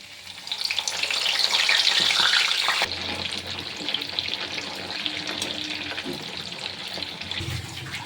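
Cauliflower florets frying in a pan, a steady broadband sizzle that is loudest in the first few seconds and then continues at a lower, even level with no talking.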